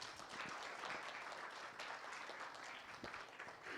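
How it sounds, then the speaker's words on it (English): Audience at a Native American regalia fashion show applauding, a dense wash of clapping from many hands, steady and moderately loud for a few seconds. "So let's give them a round of applause"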